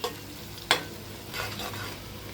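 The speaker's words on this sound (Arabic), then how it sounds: "ونستمر بالتقليب كويس عشان البصل يتحمر" Sliced onions sizzle in oil in a single pot for koshari while a spoon stirs them, with one sharp scrape near the start and a soft steady fry throughout the brief stretch.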